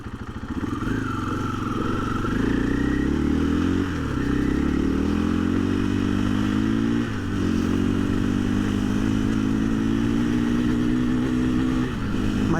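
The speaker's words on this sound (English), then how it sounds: "I'm just gonna get the bike moving and then just rip through the gears." A 2024 KTM 500 EXC-F dirt bike on stock ECU mapping and factory tires pulls away and revs up through the gears, its engine note climbing steadily, then dipping briefly at each shift, loud and close throughout.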